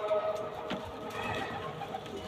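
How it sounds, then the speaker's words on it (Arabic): Kaiper Matern pigeon of a pure Dutch-imported strain cooing close by, a few soft low coos with a brief burst near the middle over faint steady background hiss. "من أقوى الحمام اللي جابه الحاج فتح البقالة من هولندا"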